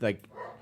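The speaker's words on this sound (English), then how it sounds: "Apologies for the dog again." A pet dog barks once, loud and close, a sharp bark followed by fainter whimpering sounds in an indoor room.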